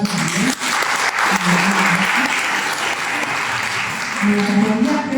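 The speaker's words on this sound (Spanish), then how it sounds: "Un aplauso también" Audience applause at an awards ceremony for women mayors, dense and steady clapping throughout, with a voice speaking faintly underneath.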